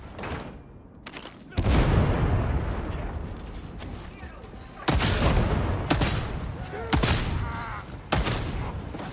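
Enemies open fire on the player in the video game Darktide, with loud volleys of gunfire and booming blasts erupting in several separate bursts, each decaying before the next salvo hits.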